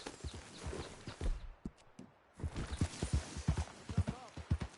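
Horse hooves clip-clopping on the ground in Red Dead Redemption 2, a run of sharp rhythmic hoof strikes that pause briefly and then resume at a steady trot, close and moderately loud, with a voice heard early on.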